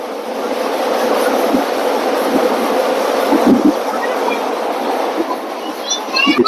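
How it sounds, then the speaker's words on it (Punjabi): A train coming from Chandigarh passes on the neighbouring track beside a DMU near Ambala Cantt, a loud close rumble with rhythmic clickety-clack wheel beats and a brief squeal near the end, with voices talking under it. "ਇਹ ਕੋਈ ਨਾਲ ਟ੍ਰੇਨ ਲੰਘ ਰਹੀ ਆ"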